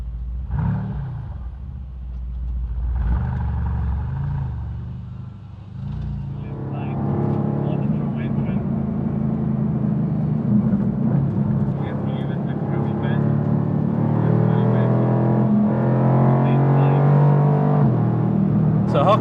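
Mercedes-AMG GT R Pro, road-legal track car, driving on the Hockenheimring, engine droning and building as it accelerates, heard from inside the car beneath someone talking over it.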